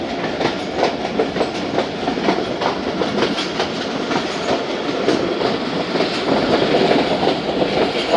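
The Jaffar Express passenger train, riding air-conditioned business class between Peshawar Cantt and Lahore, rolls along the rails with a steady rumble and rhythmic clickety-clack of wheels over joints, heard from inside the carriage.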